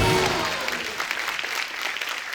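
A studio audience at a comedy show breaks into loud, sustained applause that starts strong and then settles into a steady clatter of many hands.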